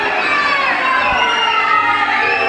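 A wrestling crowd at an indoor show shouts and cheers in a loud, sustained roar with many overlapping voices and no breaks.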